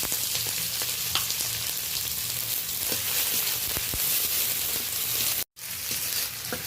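Onion, green chilli and small prawns frying in hot oil with whole-spice tempering, a steady close sizzle with scattered crackles that cuts out briefly near the end, no talk.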